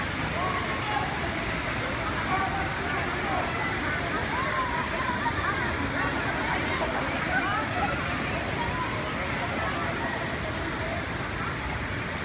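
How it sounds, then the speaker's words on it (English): Small waterfall at Tai Tai Falls in Laguna, Philippines, giving a constant dense roar of falling and splashing water, loud and close, with voices faint beneath the rush. "This is one of many waterfalls here in Laguna."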